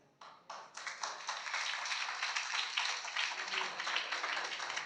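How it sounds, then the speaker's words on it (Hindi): A church congregation claps half-heartedly, starting with a few scattered claps that quickly build into a steady patter of many hands. The clapping continues at a moderate, even level without cheering. "इतनी मरी सी ताली"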